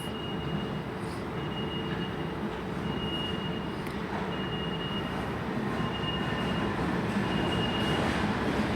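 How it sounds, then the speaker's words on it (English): A London Underground Circle Line train up from Hammersmith rumbles steadily through Paddington, a low rolling wheel noise with faint high squeals now and then, at moderate distance and without speech. "Also done there is the London Underground service come up from Hammersmith."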